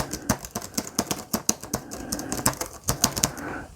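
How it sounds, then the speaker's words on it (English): Fingers tap quickly on a tactile keyboard, a close, crisp run of irregular clacking keystrokes with no voices. "I love the sound of these keys."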